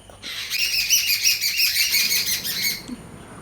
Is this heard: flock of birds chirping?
yes